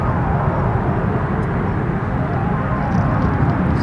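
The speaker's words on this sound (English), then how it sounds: "the sound of those jet engines roaring over your head" Loud, broad rumbling roar of jet engines overhead at Denver International Airport, a continuous heavy wash of noise without any break.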